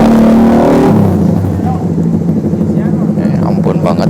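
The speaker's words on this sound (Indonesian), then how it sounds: "Ampun banget knalpotnya coy, berisik banget." A loud vehicle exhaust roars close by on a city street in Bandung, with a strong rumbling drone and revving that dominates the first second before settling under ongoing traffic noise while people talk.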